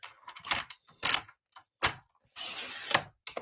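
Paper is cut into a strip about one inch wide for stamped card making: a few short scraping, sliding cuts, then a longer continuous slice near the end, close and moderately loud with no talking.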